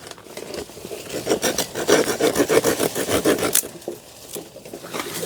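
A hand saw rasps back and forth through wood in quick, rhythmic strokes, close and fairly loud, then stops.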